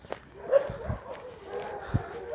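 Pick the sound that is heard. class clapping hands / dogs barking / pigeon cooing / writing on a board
dogs barking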